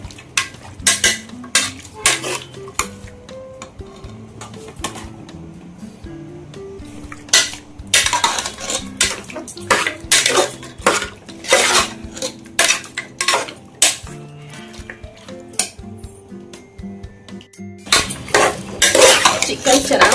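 Chicken gravy fries in a pan while a metal spatula clanks and scrapes against it in loud, busy bursts over a steady sizzle, with a short pause near the end.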